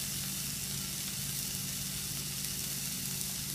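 Blewit mushrooms sautéing in hot oil in a pan, a dense, steady sizzle with constant crackling hiss heard close up.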